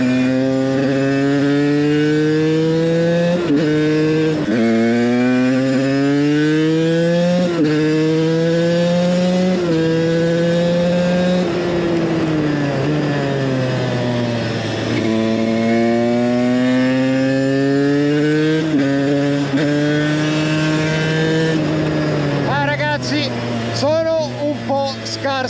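A TM 125 supermoto two-stroke motorcycle being ridden, its loud buzzing engine rising in pitch through repeated gear shifts and dropping between them, with a rider talking over the racket.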